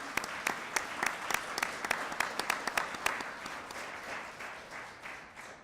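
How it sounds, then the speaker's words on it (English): An audience at an AI and data science summit claps for the people thanked, steady moderately distant applause with distinct individual claps, gradually thinning toward the end. "Can we give them a round of applause here?"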